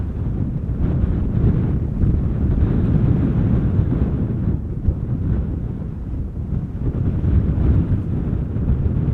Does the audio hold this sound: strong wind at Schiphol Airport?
yes